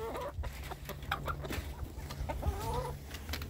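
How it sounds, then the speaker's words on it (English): A flock of backyard hens waiting to be fed cluck and chatter close by, with overlapping short calls against a constant low hum. "all the chickens are waiting here, waiting to be fed."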